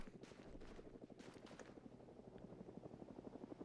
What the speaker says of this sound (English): I can hear that helo coming around again.